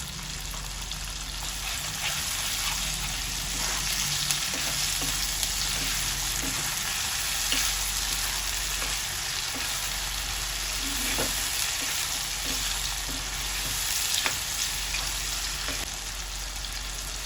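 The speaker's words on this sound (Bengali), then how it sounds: "এবার এই তেলের মধ্যে হাফ চামচ আদা বাটা দিচ্ছি, হাফ চামচ রসুন বাটা দিচ্ছি, দিয়ে ভালো করে আমি এটা কষিয়ে নিচ্ছি।" Half a spoon each of ginger paste and garlic paste fries in hot oil for a mutton curry, a loud constant crackling sizzle with occasional spoon scrapes and taps as it is stirred, close and without talk.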